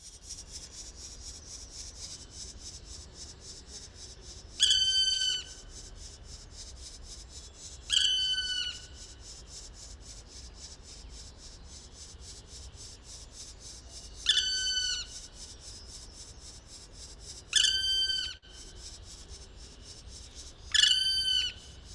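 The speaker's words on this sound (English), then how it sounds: "That's a black woodpecker and its chicks." Black woodpecker chicks give repeated harsh, rasping calls in five separate bursts spaced a few seconds apart over a steady background hiss, fairly close and clear.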